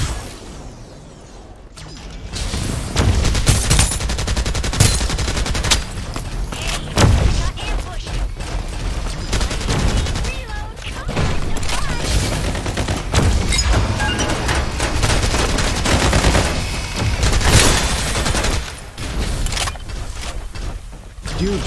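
Gunfire and mechanical weapon noises from the shooter game Farlight 84, loud bursts and clicks coming in rapid, dense volleys throughout with booming hits, while players talk over the action.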